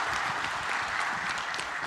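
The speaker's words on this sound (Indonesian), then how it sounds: "Tepuk tangan sekali lagi untuk Ketua Umum kita." An audience at a Partai Demokrat regional congress in West Java claps steadily, a dense sustained patter of many hands with no single claps standing out.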